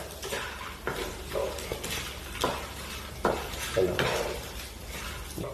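A spoon scrapes and stirs papadam thoran frying in a pan, with rhythmic strokes roughly every second over a soft sizzle and occasional light clinks of metal.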